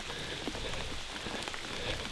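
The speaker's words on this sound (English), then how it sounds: "Get the impression that rain's going to set in." Rain beginning to fall in a forest at night, a dense, even patter of drops on leaves and surfaces that continues steadily throughout without any speech.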